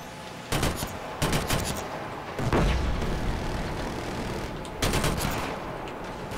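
Rapid bursts of gunfire from the video game Killzone Shadow Fall during a King of the Hill multiplayer match at The Hangar, several loud clusters of shots with booming hits and no talk.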